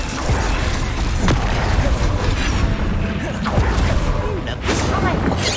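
Confringo explosive spell blasts in Hogwarts Legacy land as several sharp, booming bursts spread across a dense, continuous wash of game noise and effects.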